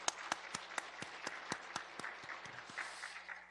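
Church congregation at a Sunday afternoon praise service applauding, a run of faint, evenly spaced claps that blur into a light scattered patter.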